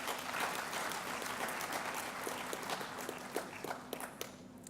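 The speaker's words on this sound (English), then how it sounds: "Can we give her another round of applause?" A crowd applauds at a distance at a conference, dense clapping that thins out toward the end into a few scattered, separate claps.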